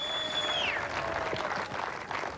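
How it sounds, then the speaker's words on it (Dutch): Crowd applause for South African strongman Gerrit Badenhorst at the 1996 World's Strongest Man qualifying round in Mauritius, a steady wash of clapping with a whistle-like tone sliding down early on. "Dit applaus is voor de sympathieke Zuid-Afrikaan Gerrit Badenhorst."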